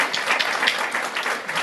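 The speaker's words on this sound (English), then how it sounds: "Now that deserves a round of applause." Applause from the audience at a city's State of the City address, a dense steady roar of many hands clapping at once, fairly loud and continuing without talk.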